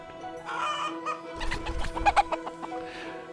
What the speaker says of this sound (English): Just grab a chicken.